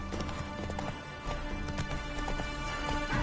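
A horse gallops with a quick, steady clip-clop of hooves in The Witcher 3, played on PS5, under a layer of game music and ambient sound.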